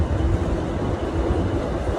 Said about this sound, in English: Cool trains coming through whoop whoop.